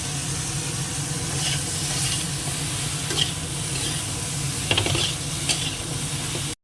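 Curry seasoned with salt, cumin powder and a little chili powder hits a hot pan, giving a loud, continuous sizzle with intermittent scraping clinks of stirring close by.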